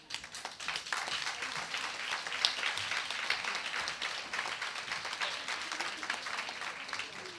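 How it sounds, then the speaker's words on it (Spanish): A conference audience at an event on women in the economy gives a strong, sustained round of applause as a national senator comes up to the stage. Dense, steady clapping fills the room throughout, with no talk over it. "recibir con un fuerte aplauso a la senadora nacional Cristina Fiore Viñuales"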